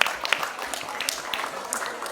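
Audience applause at a ceremony, a steady patter of many hands clapping at moderate distance, fairly faint and even.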